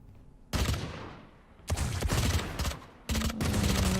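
Valorant gunfire comes in three loud bursts of rapid shots from a competitive esports match. Each volley cuts in sharply from quieter game ambience and is heard alone, without talk.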